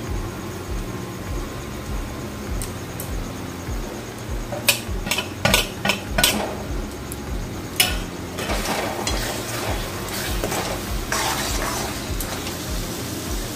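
Kashmiri chili and turmeric powder are stirred into frying onion, ginger and garlic for a jackfruit chicken curry, with a spoon scraping and knocking against the pan in irregular bursts over a low, steady sizzle; no voices.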